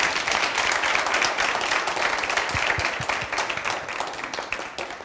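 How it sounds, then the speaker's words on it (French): Audience applause for a televised business competition selecting sixteen candidates, thick steady clapping from a room of people that gradually thins toward the end. "vous pouvez toutes et tous vous applaudir très très fort"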